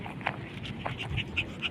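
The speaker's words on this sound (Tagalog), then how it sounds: "Itong aso to, napakakulit to." A dog panting and giving soft whimpers while out on a walk in hot weather, quiet and close over faint outdoor background noise.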